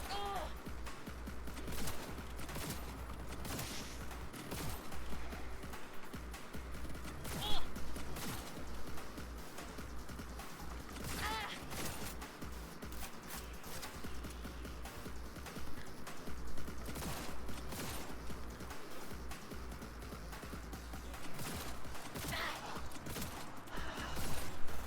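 Gunfire in the video game Cyberpunk 2077 comes as scattered sharp shots spread across a long stretch, fairly faint and irregular, with clanks and impacts between them over a constant low background.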